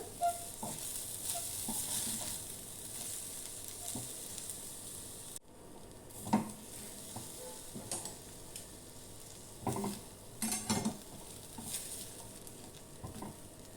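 A sweet mixture with bread crumbs is stir-fried in a pan, giving a soft, low sizzle under intermittent scraping and tapping of a spatula, quiet overall with occasional louder clusters of stirring.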